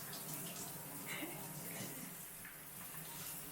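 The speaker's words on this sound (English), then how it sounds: "I left the shower on because I don't want to get cold." Shower water runs steadily throughout, a continuous broadband spray at moderate level with no other clear sounds and no talking over it.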